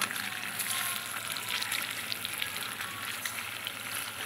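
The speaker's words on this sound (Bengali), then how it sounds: "পাতলা পাতলা করে কেটে পনিরটা একটু ভেজে নেব" Thinly sliced paneer fries in a pan with a continuous, fairly quiet sizzle that stays steady and even throughout.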